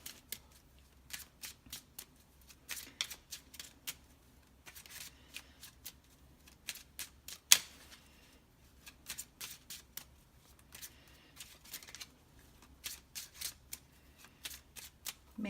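Lenormand cards are shuffled by hand in a quiet room, with a steady run of crisp, rapid riffling flicks in clusters and one sharper snap midway, close and soft, with no talking.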